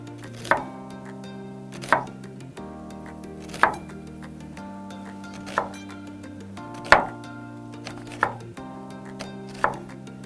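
A kitchen knife cuts food on a cutting board in about eight crisp, evenly spaced strokes, each a close knock, over faint steady background music.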